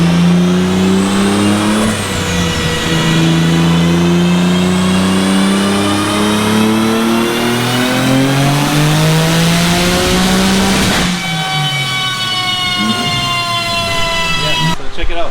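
A 900-plus wheel-horsepower Nissan 300ZX on a dyno revs its twin-turbo engine at about 27 to 28 pounds of boost, a loud sustained howl whose pitch climbs, dips and climbs again, with voices faintly underneath.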